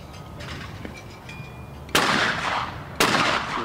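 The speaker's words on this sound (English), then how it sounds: "And then you can take a test shot at 30 meters if you want" Two sharp, loud gunshots crack out about a second apart during test shots at 30 meters on an outdoor shooting range, each followed by a short decaying echo over quiet background noise.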